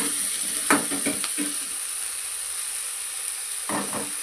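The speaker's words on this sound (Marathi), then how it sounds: "मी आता याच्यामध्ये भाजी टाकून घेणार आहे।" Fresh fenugreek (methi) leaves go into a hot pan for a spicy Maharashtrian rassa curry, giving a steady, close frying sizzle with a few brief stirring scrapes and bursts.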